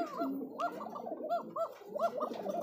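Pigeons coo softly in a continuous, overlapping burble of rounded, throaty calls, close by and fairly quiet.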